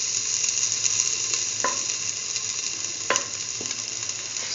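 Grated coconut sizzling steadily in a hot pan, a continuous frying hiss with a few light clicks of a utensil against the pan, fairly quiet and without talk.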